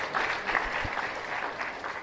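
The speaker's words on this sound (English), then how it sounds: "So I want to give you guys a round of applause." An audience at a school graduation ceremony claps steadily in a hall, a dense moderate wash of applause lasting about two seconds.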